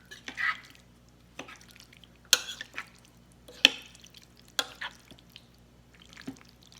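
Masa flour is stirred into a quarter cup of warm water, a series of soft, separate wet scrapes and clicks of the utensil, quiet and spaced about a second apart.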